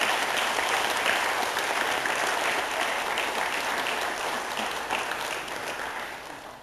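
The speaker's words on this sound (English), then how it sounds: "please give Russell a hand clap of appreciation for all the music." An audience at a Memorial Day ceremony applauds for the musician in a dense, steady burst of clapping that carries throughout and eases off slightly toward the end.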